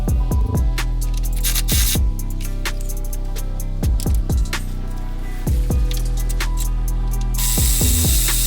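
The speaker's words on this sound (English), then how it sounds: "So I just need to jack it up enough to get enough space to get my ratchet in there." A hand ratchet clicks in repeated bursts of quick pawl ticks while loosening a bumper screw on a Mitsubishi Lancer Evolution 8, with short pauses between strokes, close and fairly loud.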